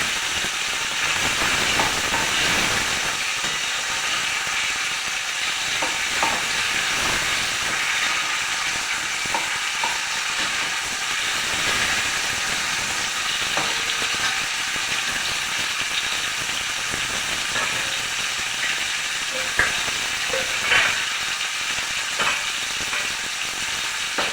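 Washed raw mango pieces fry in oil spiced with cumin, a constant close sizzling hiss with scattered crackles and stirring clicks running throughout, no voices.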